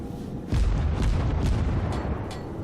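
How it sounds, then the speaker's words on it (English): Warship guns in World of Warships fire armor-piercing shells. A heavy, close boom hits suddenly and leaves a rumbling roar that holds on as a loud, low wash. "I'm firing AP at destroyers"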